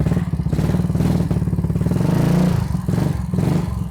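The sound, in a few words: Yamaha Mio Sporty motorcycle with cheap aftermarket exhaust running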